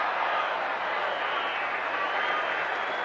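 A large crowd at a football stadium during an NFL game between Washington and Green Bay makes a steady, distant roar of cheering and applause that holds evenly throughout.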